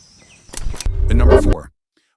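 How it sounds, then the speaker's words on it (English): A long-wattled umbrellabird, the species with a huge dangling throat wattle, gives a single deep, booming call that lasts about a second, close and fairly loud, after a couple of brief sharp clicks. "This bizarre bird has a huge dangling throat and produces deep, unnatural sounds that feel almost alien."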